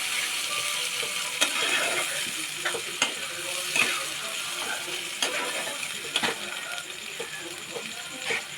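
A spoon stirs a wet mutton kosha spice paste, thinned with spice water, in a pan: a soft ongoing sizzle with regular scraping and clacking strokes against the pan.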